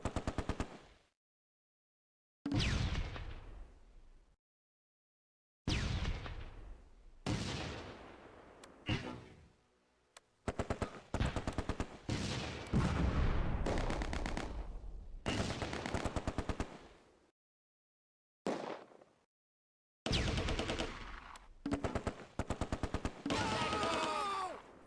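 MG42 and Bren machine guns fire in Close Combat, a WWII Arnhem battle. Loud bursts of rapid gunfire come in repeated volleys of several seconds, broken by short silences.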